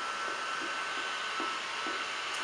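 A heat gun blows under a vinyl wrap decal on an Arctic Cat ProClimb snowmobile nose, a steady close hiss of hot air with faint soft rhythmic pulses underneath.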